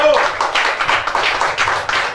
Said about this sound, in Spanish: Un aplauso para Yanny-Lizeth Velázquez Mena.